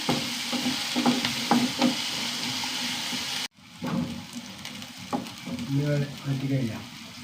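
Onions sautéing in a pan on the stove, a continuous close frying hiss with intermittent scraping stirs, a brief cut midway and then softer sizzling with clinks of the utensil.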